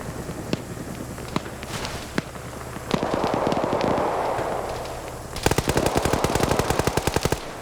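Video game gunfire in a squad battle: scattered single shots, then a long sustained burst of rapid automatic fire, with a second dense volley near the end, loud and close over a low background hum.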